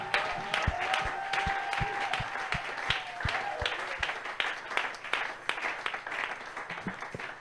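A church congregation at a worship service claps in applause, a dense run of hand claps with a sustained tone underneath early on, moderately loud and fairly close throughout.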